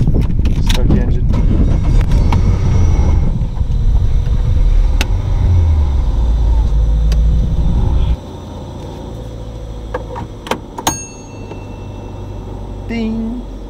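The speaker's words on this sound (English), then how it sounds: "Keys. Start the engine." A Lotus sports car's engine is started with keys outdoors, with key jangling and a cranking roar that settles into a loud, steady rumble, then the engine drops to a lower idle partway through, with a few clicks and a chime near the end.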